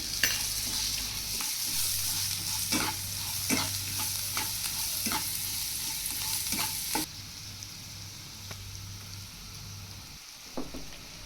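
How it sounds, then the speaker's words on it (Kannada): Vermicelli with turmeric powder roasting in a pan for shavige bath, a continuous hiss of frying with rhythmic scraping strokes of a spatula, close by, the sizzle dropping noticeably quieter partway through. "ಎಲ್ಲ ಚೆನ್ನಾಗಿ ರೋಸ್ಟ್ ಮಾಡ್ಕೊತಾ ಇದ್ದೀನಿ ಅರ್ಧ ಸ್ಪೂನ್ ಅರಿಶಿನದ ಪುಡಿ ಹಾಕ್ಕೊಂಡು ಎಲ್ಲ ಚೆನ್ನಾಗಿ ಮಿಕ್ಸ್ ಮಾಡ್ಕೊತಾ ಇದ್ದೀನಿ"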